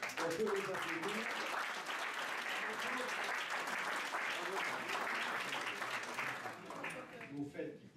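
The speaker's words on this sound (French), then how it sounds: "On peut les applaudir." An audience applauding candidates at a local election meeting in Laxou, Meurthe-et-Moselle, sustained dense clapping under faint voices, fading out near the end.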